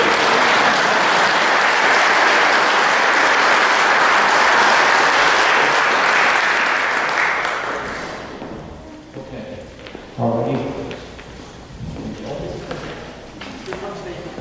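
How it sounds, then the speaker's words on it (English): An awards ceremony audience gives loud, dense applause that holds steady for about eight seconds, then fades away, followed by someone speaking and some thumps and shuffling. "that's another round of applause for this guy here"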